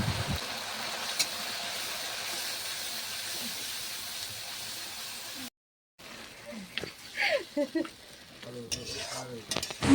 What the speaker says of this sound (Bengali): অল্প পরিমাণে নুন আর হলুদ দিয়ে মশলাটা ভালো করে কষিয়ে নেব